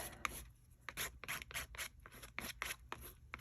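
An art journal page being scuffed up by hand, a string of short dry rubbing strokes in an uneven rhythm, close and fairly quiet.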